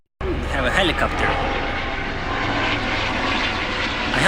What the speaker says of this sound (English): Oh, we have a helicopter.